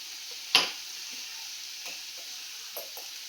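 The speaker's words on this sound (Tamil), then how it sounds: "அதை நம்ம மீடியம் ஹீட்டில் வச்சு நல்லா அதை என்ன பண்ணணும், நல்லா வதக்கிட்டே இருக்கணும்." Okra sautés over medium heat for a crispy okra fry, a faint steady hiss with one sharp utensil knock near the start and a couple of soft taps later.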